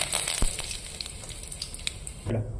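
Mustard seeds and a sprig of curry leaves sizzling in hot oil in a pan, a close, steady crackling fry with small pops throughout, swelling briefly near the end.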